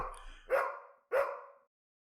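A dog gives two distinct barks about half a second apart, moderately close, with silence around them.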